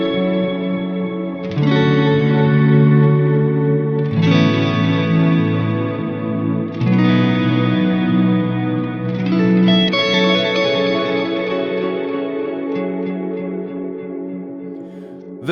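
Sustained synth chords run through a delay effect timed to the golden ratio at 146 BPM, each chord change followed by shimmering repeating echoes that blur together into a washy, reverberant tail.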